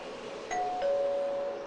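Doorbell in a Domino's pizza TV ad: a two-tone ding-dong chime, clear and fairly close, over a soft background hiss.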